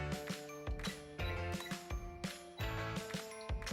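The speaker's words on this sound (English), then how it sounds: "set my timer" Quiet ticking and ratcheting clicks from a kitchen timer dial being wound, with several rhythmic mechanical bursts close by and no talking.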